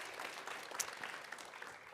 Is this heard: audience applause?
yes